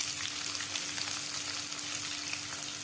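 Cumin and mustard seeds crackle and sizzle steadily in hot oil, a dense continuous frying hiss with fine popping throughout, close and fairly loud with no talking.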